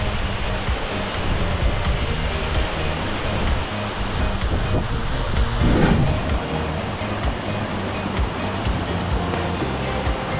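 The Curug Lawe waterfall in Kalisidi pours into the natural pool below with a loud, steady, unbroken roar of rushing water throughout and no voices.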